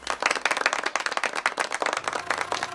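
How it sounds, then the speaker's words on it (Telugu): A group claps for Seenu in a Telugu movie scene: dense, fast, overlapping hand claps sound steadily and fairly close for the whole stretch. "సీనుకి చప్పట్లు కొట్టండి రా."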